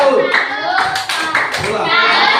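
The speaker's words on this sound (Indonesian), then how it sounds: "tepuk salut untuk kelompok keempat" A classroom of pupils performs a 'tepuk salut' clapping cheer for the fourth group, with rhythmic claps mixed with children's chanting voices, close and fairly loud throughout.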